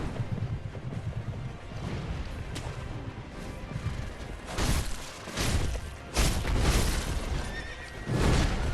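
A horse in the video game Sekiro whinnies several times in loud, shrill bursts over a rumbling, clattering game background, with thumps and hoof-like noises between calls.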